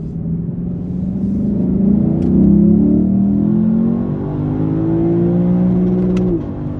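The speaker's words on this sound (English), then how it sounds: "So I got a bit overexcited over there and hit the rev limiter" Lexus LC 500 V8 engine revving hard up to the rev limiter, heard from inside the car: a loud, rising harmonic engine roar that climbs steadily over several seconds, then cuts back sharply as the limiter bites.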